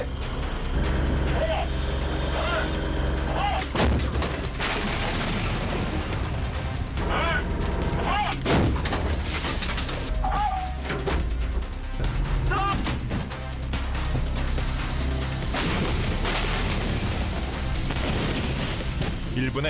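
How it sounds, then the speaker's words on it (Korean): A self-propelled howitzer capable of four rounds a minute fires during an armored brigade's range training, sending sharp, heavy blasts over constant background noise while people talk throughout. "일 1분에 4발까지 연속 사격이 가능한 자주포"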